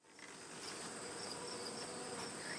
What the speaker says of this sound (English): You got so many bees in here.